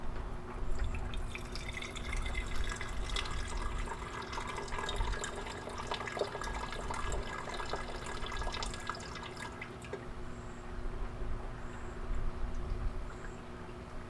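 Liquid is poured off settled cement silver in a laboratory beaker, a soft continuous trickle and drip that runs quietly and steadily throughout.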